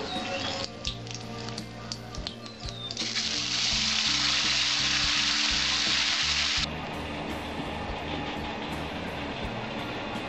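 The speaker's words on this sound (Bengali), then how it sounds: "এবার দেবো আমি জিরে বাটা" Cumin paste hits a hot pan for a vegetarian Bengali lentil-fritter curry, a loud sizzle bursting up in the middle, holding strongly for a few seconds, then easing to a steadier frying hiss amid light kitchen clatter.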